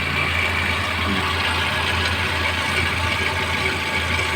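A Suzuki APV engine idles with a steady, close, low rumble that holds constant throughout, with no talking.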